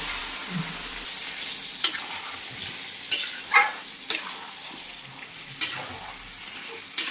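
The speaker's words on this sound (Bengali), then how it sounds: "মটনটাকে দিয়ে পরে এটাকে ভালোভাবে কষবো" Mutton stir-fried in oil for curry, a close crackling sizzle with repeated scraping stirs of a spatula against the pan at irregular intervals, no voices.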